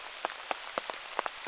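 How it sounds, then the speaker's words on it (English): Rain that has fallen for hours falls during a cold walk near Toplitzsee lake, with sparse, sharp drops pattering close by on a surface at an irregular rhythm and no talking. "it's been raining for about 18 hours non-stop"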